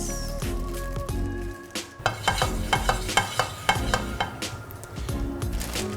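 Butter in a hot pan for cooking coconut and mango flatbread, giving a steady sizzle under repeated scraping and stirring clatter from a spatula.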